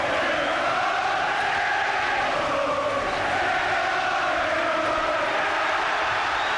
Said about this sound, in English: You can hardly hear yourself thinking here now. The crowd trying to urge Collins through this last half a minute.